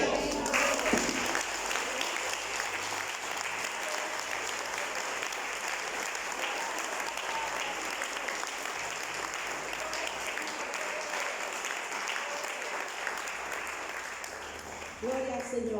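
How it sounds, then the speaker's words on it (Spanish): A church congregation applauds in a long, dense, steady burst of clapping that runs almost sixteen seconds before cutting off abruptly at the end. "Denle un aplauso."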